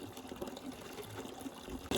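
Water from a bathroom tap pipe runs faintly and steadily, a soft continuous rush and trickle with a brief louder burst at the very end.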